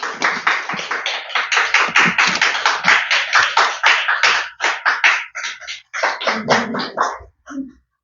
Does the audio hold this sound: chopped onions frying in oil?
no